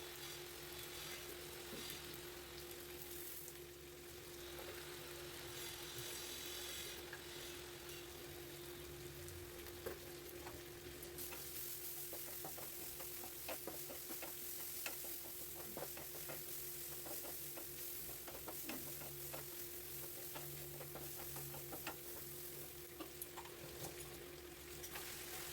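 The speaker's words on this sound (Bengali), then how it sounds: "খুব সুন্দরভাবে আমি ভালোভাবে ভেজে নিচ্ছি, আর মাংসটা থেকে খুব সুন্দরভাবে তেল বেরোনো শুরু হয়ে গিয়েছে" Chicken pieces fry in oil in a large kadai while being stirred for a chicken curry, giving a faint, steady sizzle with occasional scraping over a constant low hum.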